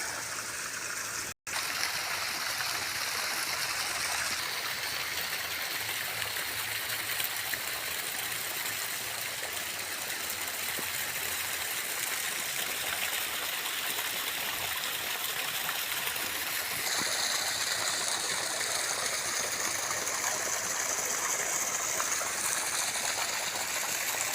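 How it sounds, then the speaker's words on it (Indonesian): Pumped river water pours steadily from a hose onto a flowering durian tree, a continuous close rushing gush that barely changes over its length, with no talking. "Jadi ini adalah air sungai yang saya naikkan. Saya gunakan untuk menyiram"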